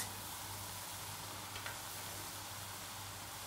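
Tomatoes with turmeric and red chili powder frying in oil in a pan, a steady close sizzle with a faint stir partway through.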